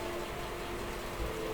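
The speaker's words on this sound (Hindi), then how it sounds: "थोड़ी देर में बारिश होने लगी" Rain falls steadily as a soft, even hiss, faint and distant, continuous throughout with no voices.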